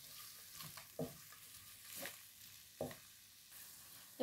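Garlic paste and chopped onion fry in a pan with a soft, continuous sizzle, broken every second or so by sharper scraping stirs of a spatula, fairly quiet and close, with no talking.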